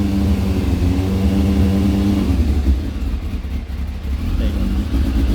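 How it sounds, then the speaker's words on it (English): A 1995 Kawasaki ZZR1100 motorcycle engine starts and runs loud and close with a rough, uneven revving, rising and dipping in pitch, with no speech over it. "when I start this, the revs are going to go through the roof."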